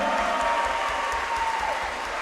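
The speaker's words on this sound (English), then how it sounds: "Let's get a big round of applause for the little champion over here." Crowd applause at a Kingdom combat-sports fight event for a young champion, a steady broad roar of clapping held at an even level throughout.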